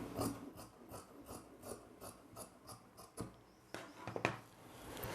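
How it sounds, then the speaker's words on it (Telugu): Scissors trim fabric edges straight for an umbrella-style dress top, giving a faint, close series of rhythmic snips and rasping cuts, with a few sharper clicks near the end. "ఈ చివరన ఎడ్జెస్ ఏమైనా ఎక్కువలు తక్కువలు ఉంటే కనుక ఫస్ట్ వీటిని స్ట్రైట్గా కట్ చేసుకోవాలి."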